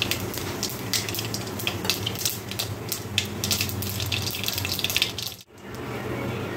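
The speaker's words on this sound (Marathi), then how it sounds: "आता तेल गरम झालं की इथे मी हाफ टीस्पून मोहरी आणि हाफ टीस्पून जिरे घेतलेले ते टाकणार आहे" Half a teaspoon each of mustard and cumin seeds crackle and sputter in hot oil in a pan, a continuous dense hiss with sharp popping, briefly cutting out near the end.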